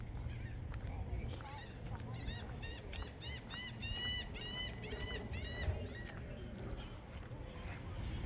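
Birds call outdoors at the Tampa Premium Outlet mall in Lutz, Florida, giving a run of loud, honking, goose-like cries over steady crowd and traffic noise, with people talking nearby.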